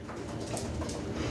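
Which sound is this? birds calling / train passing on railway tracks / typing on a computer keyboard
birds calling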